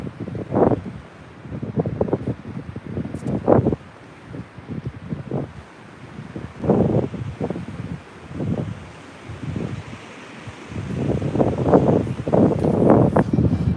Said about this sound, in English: I can see this wind blowing up here, which is nice.